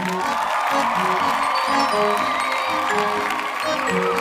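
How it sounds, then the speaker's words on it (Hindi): Villagers clap and cheer in a loud, continuous crowd bed with whoops and voices, carried under steady background music as a story sound effect. "वह सभी लोग उन्हें देखकर तालियां बजा रहे थे"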